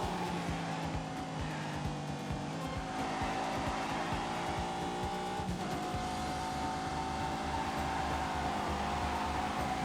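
A big 626-horsepower grand tourer in a racing video game accelerates hard, its engine droning steadily with rising revs and rhythmic pulsing, loud and continuous throughout with occasional tire squeal.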